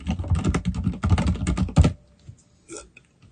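Quick bursts of typing on a computer keyboard, close and crisp, a dense flurry of key clicks for about two seconds followed by a few scattered taps and near quiet.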